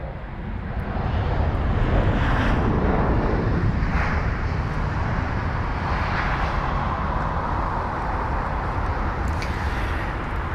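A Lufthansa Airbus A320neo lands at London Heathrow after a flight from Frankfurt, its engines roaring loud and steady throughout, heard from close by.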